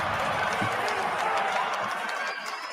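Crowd at an NBA draft watch event reacting to the Toronto Raptors picking Scottie Barnes of Florida State, a loud, dense, sustained roar of cheering and shouting filling the whole moment.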